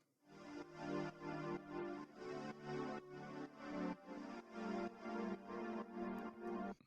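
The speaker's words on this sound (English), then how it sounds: "It's also like an atmospheric pad layer, and the sound is also coming from Sky Keys" An atmospheric pad layer from the Sky Keys plugin swells in a steady pulse of roughly eight rich, sustained chords, loud and unbroken, with no voices over it.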